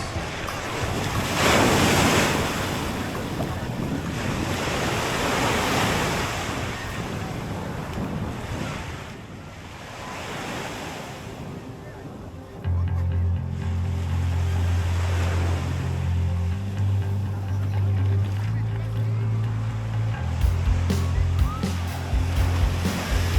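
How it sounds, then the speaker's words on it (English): Surf washing onto Los Ayala Beach on a busy Good Friday during Holy Week, a steady roar of breaking waves with heavy wind buffeting the microphone; a low droning motor, likely a boat, joins partway through. "that's Los Ayala Beach on Good Friday. Very, very busy."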